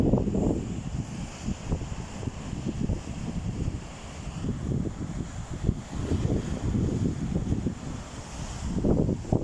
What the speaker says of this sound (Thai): แรงมากนะคะลมแรงมาก